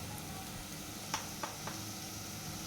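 Spices fry in a pan with goat head meat, making a faint, steady sizzle broken by three quick soft taps of a spoon, with no voices.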